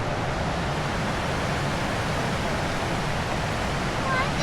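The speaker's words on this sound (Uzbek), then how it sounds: "Daryo." A river rushes steadily, a dense unbroken wash of flowing water, loud and close, with no pauses over several seconds.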